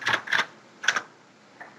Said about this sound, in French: la machine à écrire que vous entendez, c'est le clavier